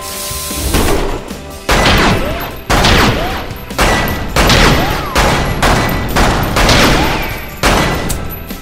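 Gunfire rings out in a VR shooting video game: about nine loud, sharp shots spaced roughly a second apart, each with a reverberant crack and decay, and someone briefly talking underneath.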